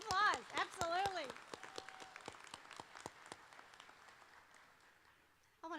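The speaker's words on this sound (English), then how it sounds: "let's give him a round of applause" Scattered, fairly faint claps from a commencement ceremony audience, heard as individual sharp hits thinning out over several seconds, with a voice speaking briefly at the start and again at the end.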